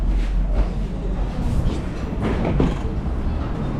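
A metro train in Novosibirsk rumbles steadily from inside the car, with constant low roar, rattling and faint clatter throughout and no clear talk.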